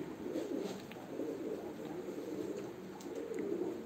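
Tumbler pigeons cooing in a loft, soft low throaty coos repeating in gentle rolling phrases over a steady faint background hum, quiet and fairly close with no talk.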